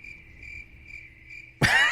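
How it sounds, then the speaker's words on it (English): A steady cricket chirp pulses in a fast, even rhythm against a low background hum, then a sudden loud burst of noise cuts in near the end. "You should put crickets in there."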